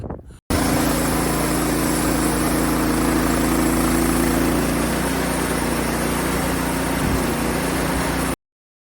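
A sawmill engine runs steadily while milling lumber, a loud, close, continuous mechanical drone with a constant low hum and rumble that starts abruptly and cuts off at the end.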